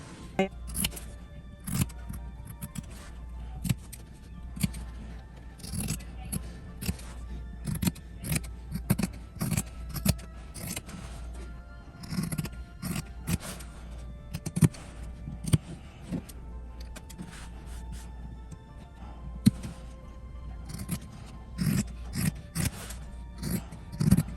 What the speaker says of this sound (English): So now I'm gonna go ahead and trim.